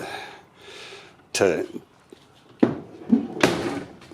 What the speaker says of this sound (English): it's a good closing door, that one